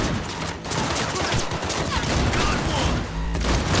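Rapid sustained gunfire in Cyberpunk 2077, a dense loud volley of shots crackling almost without pause from start to finish, close and harsh, with a voice faintly talking underneath.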